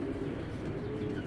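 A large racer pigeon coos softly in a steady low murmur, close by and alone, with a continuous low hum behind it.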